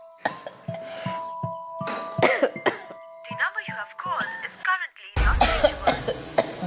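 A woman coughs several times in short bursts and clears her throat, with talking and a chime-like ding mixed in nearby.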